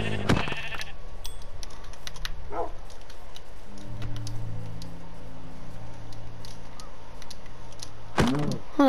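Sheep in the Minecraft video game bleat a few times over a steady background, with other sounds scattered through it.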